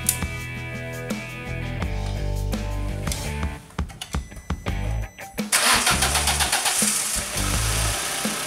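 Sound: car engine starting using POPDEER jump starter

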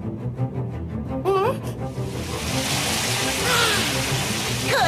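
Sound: running bath water being adjusted

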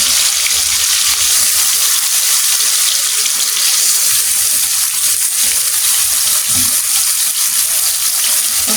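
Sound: food frying in oil

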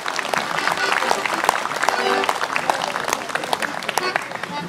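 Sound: audience applause for a folk fiddle group

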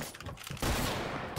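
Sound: fully automatic Barrett sniper rifle gunfire in a video game

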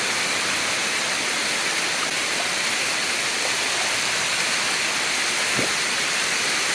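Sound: Kaparkan Terraces Falls waterfall flowing water

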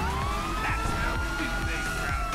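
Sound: ambulance siren arriving in the video game GTA 5

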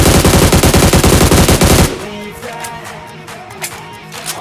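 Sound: M4 rifle gunfire in a mobile battle royale video game

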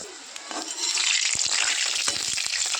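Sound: snail-shaped pitha frying one by one in hot oil

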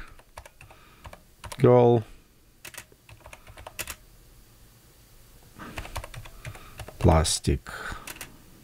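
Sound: typing a prompt on a computer keyboard

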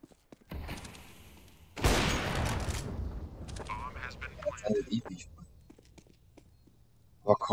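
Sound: gunshots in Counter-Strike: Global Offensive video game

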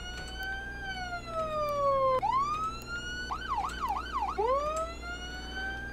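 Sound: police siren in a video game

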